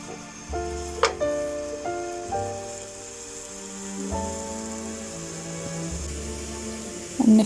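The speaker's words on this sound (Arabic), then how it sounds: "على مقلاية ساخنة بنزل ب300 غرام من اللحمة الناعمة" Minced meat, about 300 grams, sizzling in a hot frying pan, a steady crackling hiss running throughout with a brief louder clatter near the start and another at the end, with no speech.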